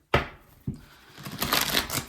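Tarot cards being shuffled by hand: a sharp riffle burst, a brief pause, then a second rustling shuffle building into a busy flutter of cards, close and alone without talk.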